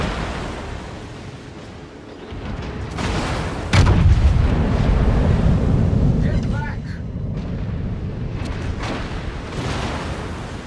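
Naval guns in World of Warships boom out in a heavy salvo, a sharp blast followed by a long rumbling roar and scattered crackling shell impacts over steady battle noise, loud and close.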